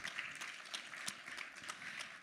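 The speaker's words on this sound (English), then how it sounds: "Another round of applause." An audience at a telecoms conference in Miami gives a round of applause: many scattered hand claps merge into a faint, distant patter that holds steady throughout.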